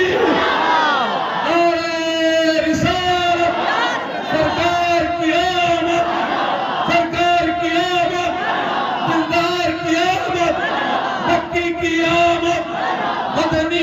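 A large crowd at a naat mushaira in Manjhanpur, Kaushambi, chants the Nara-e-Takbir slogan in loud, close unison, with repeated surging call-and-response shouts that fill the whole stretch.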